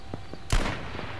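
A single sharp, loud gunshot from the video game H1Z1 cracks midway through, with a brief decaying tail over quiet background noise.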